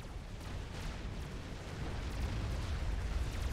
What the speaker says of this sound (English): More TAC missiles inbound from Illu.